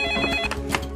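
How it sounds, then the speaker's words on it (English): A telephone rings with an incoming call, its electronic ringing tone steady, loud and close for about a second, with no voices over it. "detectives receive a call from Milan's mother"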